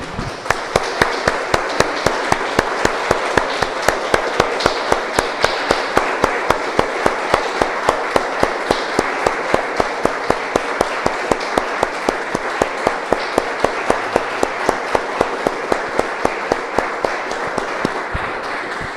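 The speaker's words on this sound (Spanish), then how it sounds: "Damos un aplauso, hermano." A church congregation claps together in a steady, even rhythm, loud sharp beats repeating for a long stretch with a dense wash of scattered clapping beneath.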